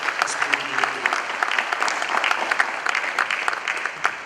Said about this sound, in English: I think that deserves a round of applause for what they did